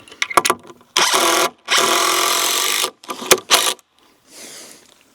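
Cordless power drill driving a couple of screws into a deck roof rafter, several loud bursts of whirring of varying length with short pauses between, close and alone.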